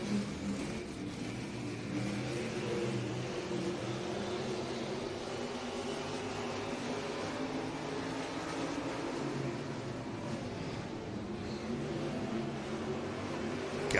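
Stock cars race in a heat on a track, heard from a distance as a steady, faint blend of several engines droning together with no clear pass-bys.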